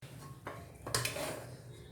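Serving utensils clink and scrape against a pot while vegetable pulao is plated, a few quiet metallic knocks and one brighter ringing tap in a short, soft stretch.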